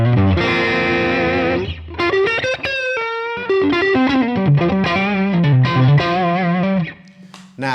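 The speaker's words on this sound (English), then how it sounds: "we've got this kind of drive sound basically" Electric guitar on the neck pickup played through channel 1 of a Dual Fusion drive pedal, giving a loud, saturated overdriven tone with sustained chords and melodic single-note lines, played alone.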